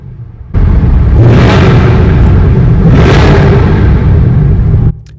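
Cars roar through the Barry Baker Tunnel, a long single-lane former Army tunnel in the Marin Headlands, as a loud, continuous, echoing rumble that swells twice as vehicles pass close, then cuts off abruptly.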